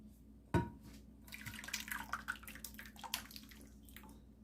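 A thick peach cobbler batter being poured into a glass baking dish of about ten by ten, with a soft thump at the start and then a quiet, uneven run of wet, splashing, dripping pours.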